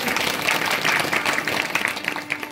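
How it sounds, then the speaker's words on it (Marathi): A crowd claps steadily at a kirtan gathering for an elderly performer, dense applause that fills the space loudly and evenly for the whole stretch without a break. "एकदा जोरदार टाळ्या त्यांच्यासाठी"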